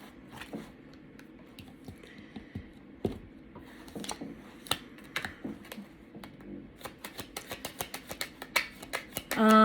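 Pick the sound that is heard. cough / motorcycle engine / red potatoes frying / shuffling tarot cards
shuffling tarot cards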